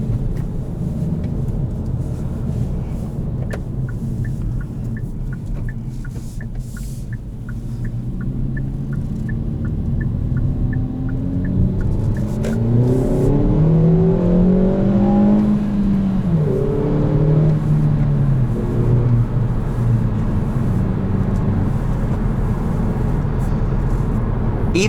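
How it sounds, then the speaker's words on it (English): A turbocharged Kia Forte GT engine accelerating through several gears, a low steady drone rising into climbing rev sweeps with audible shifts, loud and close inside the cabin, no talking. "it's really tough to have a turbocharged vehicle sound good, and Kia managed it"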